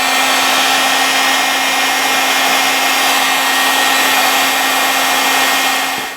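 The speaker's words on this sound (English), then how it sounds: "So I'm going to use a heat gun to heat this up." A heat gun, heating a hex socket bolt during a bicycle fork rebuild, blows a loud, steady, close-up whine and airy hiss that holds unbroken before cutting off at the end.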